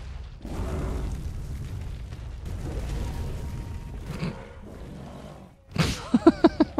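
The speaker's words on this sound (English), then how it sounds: "Oh, it's an alpha firework." An alpha firework goes off in the survival video game ARK, a sharp burst near the end followed by several rhythmic crackling pops, after a stretch of rumbling game ambience.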